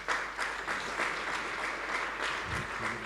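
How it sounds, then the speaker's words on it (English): An audience at an AI and robotics event applauds steadily, with many hands clapping in a close, continuous wash that holds evenly for a few seconds. "An applause."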